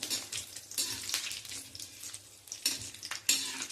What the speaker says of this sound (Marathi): हे सुद्धा अगदी एखादा मिनिट भरपूर होतो हे तळून घ्यायला.